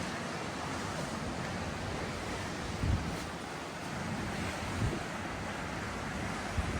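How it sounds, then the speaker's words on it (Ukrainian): Waves of the Black Sea at Odesa wash steadily onto the shore in autumn, a continuous roar of surf with wind rushing over the microphone and a few soft thuds, with no voices. "Море."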